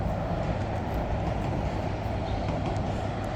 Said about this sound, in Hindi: ये ट्रेन जा रही है जिससे मैं ऑफिस जाता हूँ।